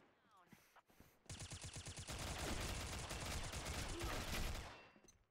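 Dense rapid gunfire from a gun in the shooter game Combat Arms: Reloaded, a loud sustained burst of automatic shots that rises abruptly after a brief quiet start and then trails off.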